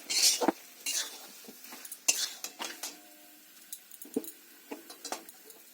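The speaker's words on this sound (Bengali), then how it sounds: "এটা ভালো করে নেড়ে ছেড়ে আমি তরকারিটা নামিয়ে দেবো।" A spoon stirs a thick Malabar spinach and vegetable curry in a pan, scraping and clinking against the metal in irregular bursts, with a faint sizzle underneath and no talking.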